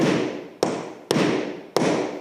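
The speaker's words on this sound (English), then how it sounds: "So Mario just knocked the last bit in with a punch just to sink it below" A hammer drives a nail punch into a wooden floorboard to sink a secret-nailing fixing below the surface: three sharp, solid knocks spaced about half a second apart over steady background noise.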